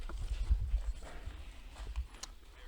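Yearling horses at a sale walking on hard ground, a quiet irregular series of hoof clip-clops with soft low thuds, fairly close, without talk.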